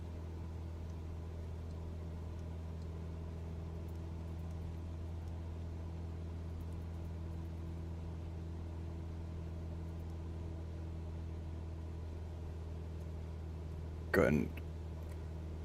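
The steady, droning hum of a Cessna 172 piston engine in Microsoft Flight Simulator 2020 runs unchanged throughout at moderate level, and a brief voice cuts in near the end.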